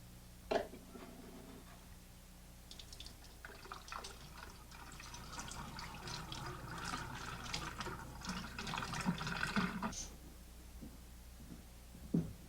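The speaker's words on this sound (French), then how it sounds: "rincez les capsules à l'eau stérile." Sterilised bottle caps being rinsed with sterile water while homebrewing beer, with a steady splashing and trickling wash of liquid running for several seconds between a couple of sharper knocks.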